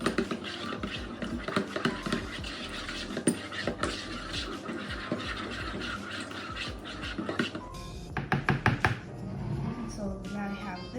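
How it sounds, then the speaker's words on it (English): A spoon stirs liquid in a bowl while making pretzel dough, scraping and clinking in a steady rhythm, close and moderately loud, with a quicker run of taps near the end; someone talks throughout. "now you're gonna want to stir it until it's fully dissolved"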